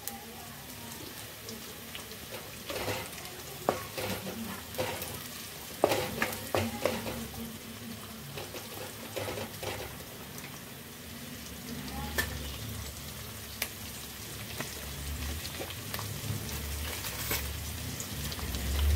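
Onions fry in a pan until browned, giving a constant crackling sizzle punctuated by irregular spatula scrapes and taps, heard up close without speech.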